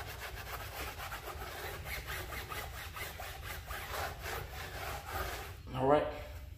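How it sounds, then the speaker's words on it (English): A scotch pad scrubs hard against the sidewall of a 2017 Corvette Stingray C7 tire in a fast, steady back-and-forth rasp up close, and a brief voice comes in near the end. "I just used my little scotch pad, put a little elbow grease in it, and just scrub it real good"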